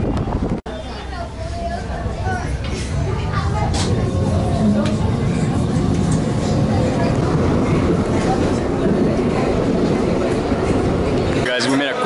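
Loud, steady rumbling hum of a cable car ride in Medellin, Colombia, with continuous mechanical and wind noise throughout and occasional faint voices underneath.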